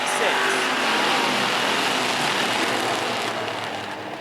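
A race car roars past on an oval track during a live racing broadcast, a loud sustained engine rush that slowly fades toward the end, with commentary voices mixed in.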